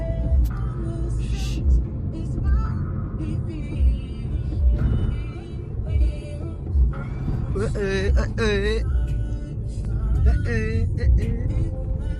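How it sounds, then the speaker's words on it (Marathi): Road traffic rumbles throughout with engines and passing vehicles, while people talk over it inside what sounds like a moving vehicle. "ट्रॅफिक"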